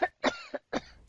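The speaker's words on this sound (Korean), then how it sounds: "외딴 초가에 다다르자 마님의 기침 소리가 낮게 새어나왔다" An old woman coughs in three harsh, close bursts followed by a faint rasp, isolated and without talk, like a dramatized sickroom effect.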